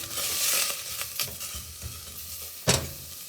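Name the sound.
onions sizzling while sauteing in pan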